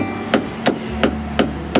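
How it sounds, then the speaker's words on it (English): A big hammer strikes metal during a roadside RV repair: five sharp, ringing blows at an even pace, close and clear, with no talk. "Big ass hammer."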